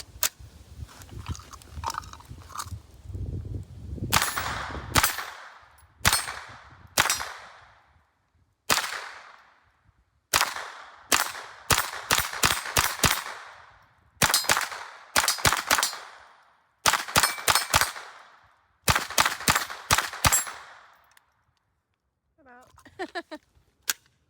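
A CMMG .22LR conversion rifle fitted with a Franklin Armory binary trigger fires repeated sharp cracks outdoors, in quick pairs and short bursts with pauses between strings, loud and close.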